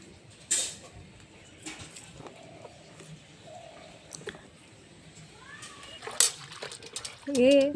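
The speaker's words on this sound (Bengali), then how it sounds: "দিদি শাকগুলো ধুচ্ছে" Leafy greens being washed in water: intermittent splashing and sloshing with creaky handling noises, while people talk nearby.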